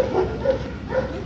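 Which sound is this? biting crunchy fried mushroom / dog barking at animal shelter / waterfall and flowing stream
dog barking at animal shelter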